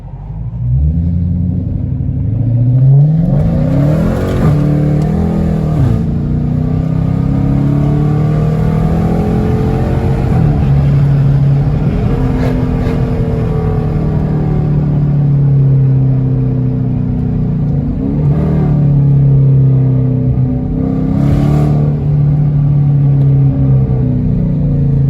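Dodge Challenger R/T with a catless exhaust pulling away and driving, a loud continuous V8 rumble rising as it revs and accelerates, with several gear-change drops and renewed pulls heard close by.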